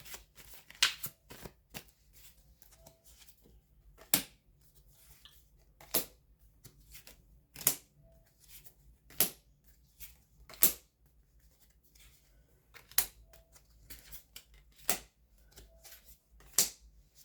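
A deck of tarot cards being shuffled by hand, heard as a series of crisp, close riffling bursts spaced a second or two apart, with quiet pauses between them and no talking.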